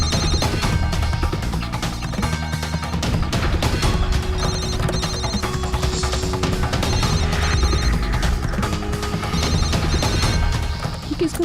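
A telephone bell rings loudly and continuously, a rapid repeating metallic trill that fills the whole stretch with no voices.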